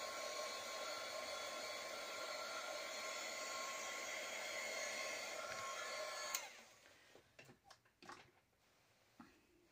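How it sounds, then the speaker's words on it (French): A heat gun blows a steady, close whooshing roar while embossing a handmade card, running for about six seconds before cutting off, followed by light handling clicks and taps. "Ça va être léger le hot gun"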